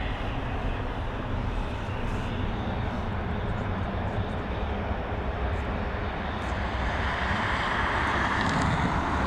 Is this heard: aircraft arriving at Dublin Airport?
yes